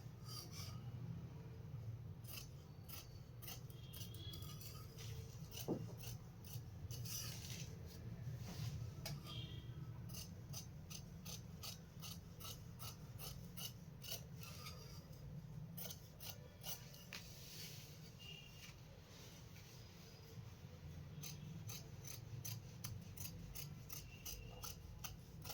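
Scissors cutting through blouse fabric in a princess-cut pattern: steady, faint rhythmic snipping and rasping repeated throughout, close and unvoiced, over a soft constant background hum.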